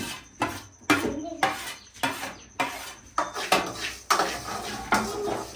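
A spoon or spatula scrapes and knocks against a metal kadhai while roasted bhujia is stirred. The strikes and scrapes are close and rhythmic, about one every half second, with no talk over them.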